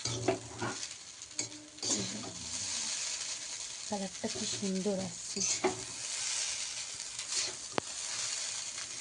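Carrots, capsicum and beans fry with salt and turmeric in a pan for chowmein, stirred in repeated scraping strokes over a steady close sizzle while someone talks briefly.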